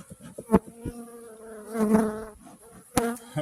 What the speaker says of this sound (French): Sur l'écran, il y en a plusieurs des abeilles.